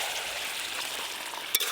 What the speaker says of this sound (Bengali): ভেজে রাখা আলু, সব কিছু একসঙ্গে এবার ভালো করে মিশিয়ে নেব।